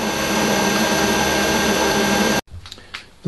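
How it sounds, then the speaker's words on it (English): A homebrew CNC machine making slow ramped cuts on a two-point-clamped part, a loud steady whirring roar of the spindle and cutter that stops abruptly, followed by faint clicks and mechanical settling. "I'm taking slow, ramped cuts, because it's only two-point clamped."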